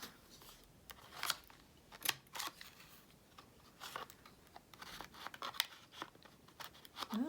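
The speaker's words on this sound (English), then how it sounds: "let's trim our top" Scissors snip the top edge of a collaged paper craft tag, a series of crisp cutting clicks spread irregularly across the span, close and fairly quiet with no talking.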